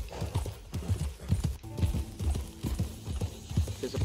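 The horse Randall, ridden in Red Dead Online, trots along with a steady, close clip-clop of hooves, the beats coming in an even rhythm with no voices.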